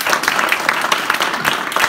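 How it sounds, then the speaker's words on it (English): A crowd claps in a quick, dense burst of applause, close and lively, with many hands overlapping. "Give him a round of applause."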